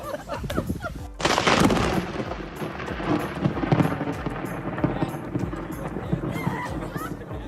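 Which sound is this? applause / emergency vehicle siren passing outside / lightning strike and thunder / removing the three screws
lightning strike and thunder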